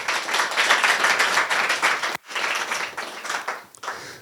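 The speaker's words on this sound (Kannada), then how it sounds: "ಯಾರಾದರೂ ಜೋರಾಗಿ ಚಪ್ಪಾಳೆ ಬಾರಿಸ್ರಿ" A church congregation claps loudly together in a dense burst of applause, briefly dropping off and then resuming.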